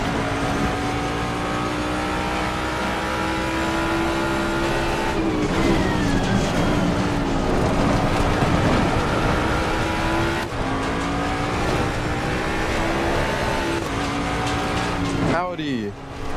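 A race car engine in the sim racing game Assetto Corsa Competizione drones steadily throughout, its pitch rising and falling through gear changes, with a brief sharp sweep near the end.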